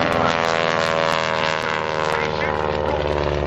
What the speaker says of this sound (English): Now watch there as he rolls that airplane down the show line